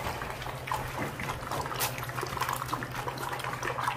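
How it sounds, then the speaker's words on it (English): American Bully dogs lap drinking water fast and eagerly, a continuous wet splashing and slurping close by with irregular bursts, over a low steady hum. "This is crazy how fast they try to drink the water."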